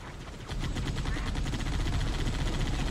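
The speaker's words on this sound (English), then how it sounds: "This time I'm shooting." Rapid automatic gunfire in the Halo 3 ODST video game, a steady loud rattle of shots repeating throughout, with no talk over it.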